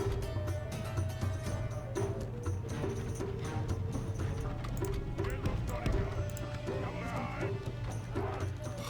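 Cavalry horses gallop across a medieval strategy game battlefield, with clip-clopping hoofbeats mixed into busy battle sound at moderate level while someone talks over it.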